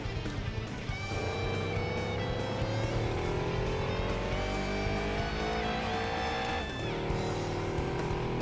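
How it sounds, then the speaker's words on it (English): Race car from the Gran Turismo 2 video game spinning out during an endurance race at Seattle, steady engine drone with rising revs and long tire squeal sliding across the track, loud and continuous. "I again had a terrible spin out."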